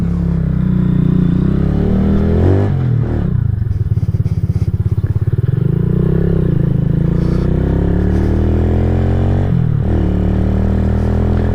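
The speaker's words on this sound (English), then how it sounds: "Bike's running." A KP Mini 150 motorcycle with a newly installed Nibbi carburetor and muffler runs steadily, its loud, close engine idling and revving with a brief dip partway through, and no voices.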